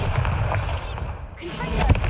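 Bombarda blasting spell erupting in Hogwarts Legacy, a booming low explosive burst with rumbling debris, loud and close, flaring again near the end amid game noise.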